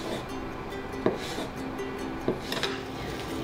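A few soft knife cuts slicing fish cake tap against a wooden board, spaced irregularly over a low steady background hum.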